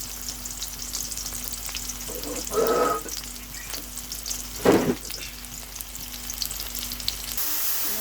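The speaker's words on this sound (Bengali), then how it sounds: "কাঁচা মরিচ রসুন পেঁয়াজ একসাথে ভেজে নিচ্ছি" Green chillies, garlic and onion fry together in a village kitchen pan, giving a steady close sizzle with two brief louder bursts of stirring or crackle partway through and no talk.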